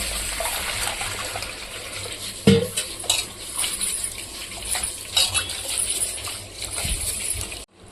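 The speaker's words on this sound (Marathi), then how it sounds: "तांदूळ धुवून घेऊ." Kolam rice being washed in water in a pot, with sloshing, swirling water and occasional clinks of a vessel, close and fairly loud, ending abruptly.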